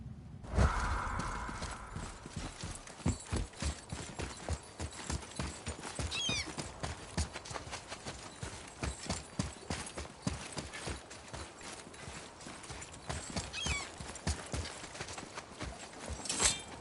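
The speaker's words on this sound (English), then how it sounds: "Now, once more to the horse." Horse hooves clip-clop steadily in a rhythmic walking gait throughout a ride in God of War (2018), close and clear, with a brief whinny near the start and faint ambient game sounds underneath.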